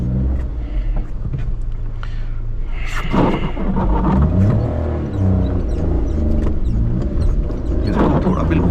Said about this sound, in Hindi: ये देखो डबल क्लच क्यों करना पड़ रहा है, बिकॉज एरिया काफ़ी टाइट है